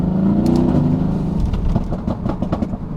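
An older Mercedes-AMG engine revs with its exhaust valve open while pulling up an on-ramp, a loud, steady throaty drone that rises and eases as the car accelerates through the gears.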